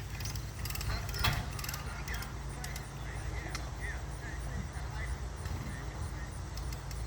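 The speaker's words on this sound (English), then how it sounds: "See, he's cranking it up, and as he's cranking it, it tightens and it moves the house in closer." Hand crank being turned to winch a manufactured home closer during setup, a faint, repeated metallic clicking and ratcheting amid steady outdoor rumble, with people talking in the background.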